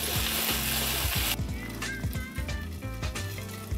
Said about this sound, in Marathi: आपण त्याला थोडंसं झाकण लावून पण आपण त्याला थोडंसं फ्राय केलेलं आहे